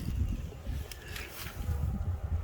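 Honey bees buzz inside a plastic hive, a faint, low, continuous hum with soft rustling and a few brighter flickers over it.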